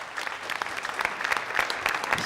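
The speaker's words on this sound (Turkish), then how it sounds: "Alkışlarla uğurluyoruz Ertuğrul Polat'ı." A studio audience on the Popstar television show applauds to send off a performer, giving fairly quiet, crisp clapping with distinct individual claps over a short span.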